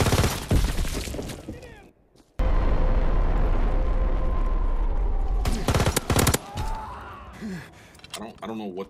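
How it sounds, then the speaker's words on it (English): Grenade explosions in Call of Duty: loud, dense bursts of booming blasts and rattling gunfire, with a brief silent gap early on and sharp clustered impacts near the end. "You throw grenades, we got it."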